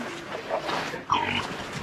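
Pigs on a farm in a Hmong village near Sapa, Vietnam, give short grunting oinks and a sharper squeal over a murmur of outdoor background noise.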